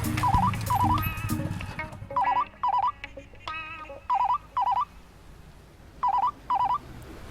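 A telephone call goes through: a brief burst of dialing tones, then evenly spaced pairs of warbling ring pulses repeat several times, clear and close.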